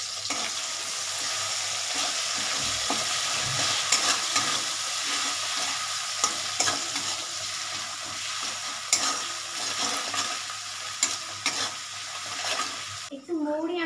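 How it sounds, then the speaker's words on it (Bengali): Dry red chillies, cinnamon, cardamom and ground pepper sizzle steadily in hot oil in a pan while being stirred, with a constant close frying hiss and light scraping throughout, and a brief voice near the end. "একটু আমি নেড়ে নিই।"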